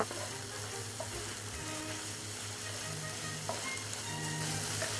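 Chillies and peppers sizzle and fry steadily in a pan with softened onions, a continuous close hiss with faint clinks of a utensil, no voices.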